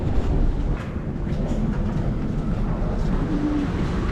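An orange train at a station, a steady low rumble and hum of rail cars with faint clicks, continuous and fairly loud.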